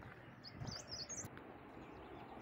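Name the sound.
birds chirping in forest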